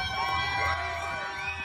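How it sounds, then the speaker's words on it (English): A large Buffalo Bills training camp crowd cheers and whoops loudly and steadily, a dense roar of many voices with high shouts layered on top. "Yeah, man, that crowd, boy."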